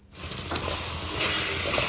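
Onion and tomato paste fries in oil for karakulambu, a loud, close, continuous sizzle that starts abruptly and swells slightly as it is stirred.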